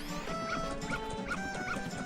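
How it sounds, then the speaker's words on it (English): A dog in the video game The Legend of Zelda: Majora's Mask yips and barks repeatedly in a quick, even rhythm over constant game music and ambience. "this dog doesn't like Deku scrubs"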